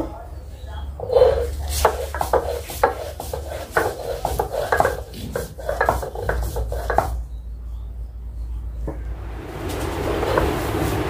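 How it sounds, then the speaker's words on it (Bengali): Dried chillies being ground by hand on a grinding stone: repeated rough scraping and knocking strokes in an uneven rhythm, close and fairly loud, with someone talking at times over the grinding. "তো আমি আগে শুকনো মরিচটাই বেটে নেব।"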